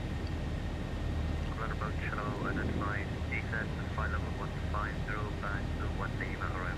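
A Zibo Boeing 737-800 accelerating on its takeoff run in the X-Plane 11 flight simulator, a steady broad engine roar that continues under someone talking.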